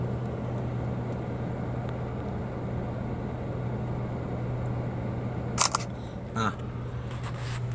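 A camera snaps a photo of a Mitsubishi car: two brief, crisp shutter clicks about a second apart, heard close over a steady low hum.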